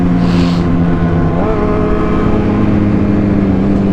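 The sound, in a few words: Yamaha R1 motorcycle engine revving for a wheelie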